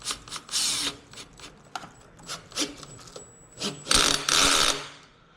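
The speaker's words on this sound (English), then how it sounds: "Okay, so I'm gonna tighten this clamp." A clamp on an ARM Motorsport front-mount intake on a BMW M550 is being tightened: close, irregular bursts of ratcheting clicks and metallic scraping, with short pauses and a longer, louder run of clicks near the end.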